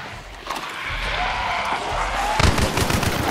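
Distant gunfire in the online shooter game Hunt: Showdown, heard as muffled booms far off over a steady rumbling backdrop, with one sharper burst of shots near the end.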